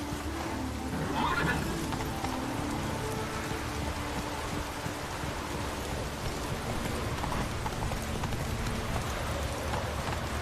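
Roach the horse in The Witcher 3 whinnies near the start, then hooves clop along steadily under a continuous hiss of rain, with game ambience filling the background throughout.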